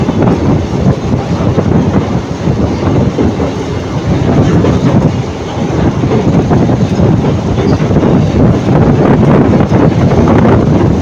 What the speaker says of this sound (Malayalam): പാമ്പൻ ബ്രിഡ്ജിലൂടെയുള്ള യാത്ര ട്രെയിനിൽ